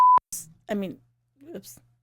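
A single short electronic beep at around 1 kHz, loud and alone at the very start, followed by people talking.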